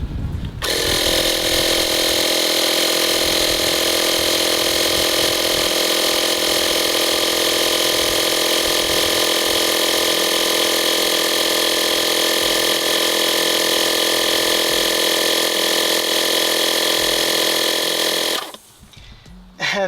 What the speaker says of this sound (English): what's extremely nice about this air compressor is that it automatically stops once it reaches its PSI